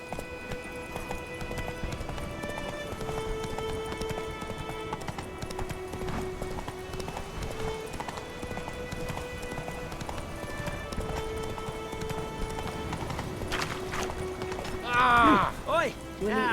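Roach, the horse from The Witcher, gallops steadily in a rapid clip-clop of hooves under a continuous game music score, with a brief sharper burst near the end.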